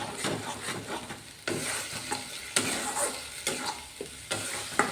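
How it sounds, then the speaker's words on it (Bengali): Masala for an aloo, paneer and peas curry stirred steadily in a kadai, a loud close sizzle broken by repeated scraping strokes of the spoon, with no talk. "এবার এই মশলাটাকে আমি অবিরত নাড়তে থাকবো,"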